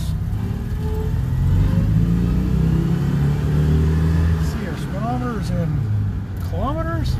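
A Citroen 2CV engine revs in gear and accelerates on the open road, its steady mid-pitched drone and low rumble continuous throughout, with rising whine sweeps near the end; someone talks over it.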